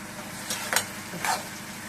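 Prawns sautéing in a pan for a prawn gravy give a faint, steady sizzle, with a few short louder bursts of stirring and scraping.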